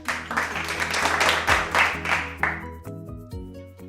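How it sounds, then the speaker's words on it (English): A short burst of clapping lasting under three seconds, layered over sustained musical tones that continue after the clapping stops. "Clap it up, guys."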